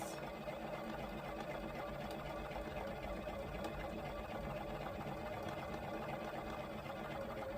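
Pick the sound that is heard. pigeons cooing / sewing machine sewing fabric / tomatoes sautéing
sewing machine sewing fabric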